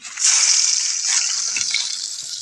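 Onions frying in a pan for an egg omelette give a loud, steady, hissing sizzle that swells in quickly and holds throughout with little change.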